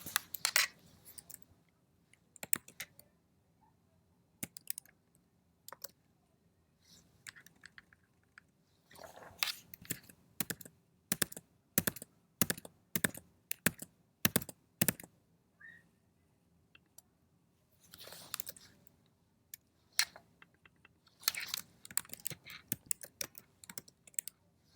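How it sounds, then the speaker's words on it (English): A computer keyboard is typed on in bursts of quick, crisp clicks separated by quiet pauses, with a dense run of repeated key presses in the middle. Close and clear, with no talking. "I'm just going to kind of push this text with the space bar"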